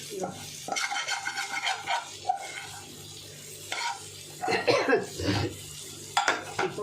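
A spoon stirs fish in a pan, scraping and clattering in short bursts with a faint sizzle of frying underneath, close by and fairly quiet, with brief pauses between the stirring strokes.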